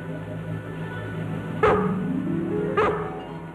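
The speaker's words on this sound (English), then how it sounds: "You, Lassie, what are you barking for?" A dog on a farm in a 1960 television episode barks twice, two sharp, close barks about a second apart over a low background hum, with no talking.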